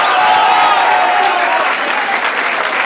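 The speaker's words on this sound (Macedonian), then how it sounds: "Тоа е тоа и аплауз за мајцата Куманова!" Audience at a Macedonian rap battle event breaks into loud, sustained applause, a dense wash of clapping that carries on without a break for about three seconds.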